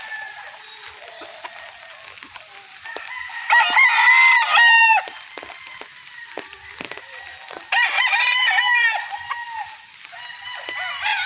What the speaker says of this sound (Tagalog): Ito yung ating mga local banded stag ng WPC.